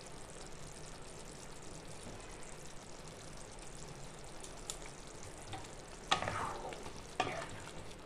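Soyabean curry with garam masala and kasuri methi is stirred in a pan: a soft constant sizzle with two sharper scraping strokes of a spoon near the end, fairly quiet and without talk.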